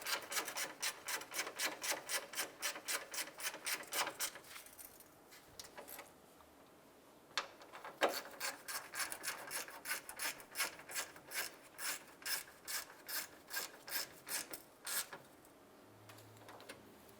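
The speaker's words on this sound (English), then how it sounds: "Grab your 10mm socket and snug that down." A ratchet with a 10mm socket snugs down a bolt on a 2001-2005 Honda Civic fan shroud, giving quiet rapid clicking bursts in steady runs, pausing briefly, then resuming with more evenly spaced ratchet strokes.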